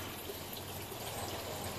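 Water flows through a homemade aquarium filter built from a used bottle and fitted with a valve, a steady, faint trickling hiss with no break or change.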